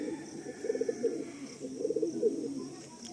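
Giribaj pigeons coo inside a loft, two soft bursts of rolling, throaty coos close by against quiet background noise.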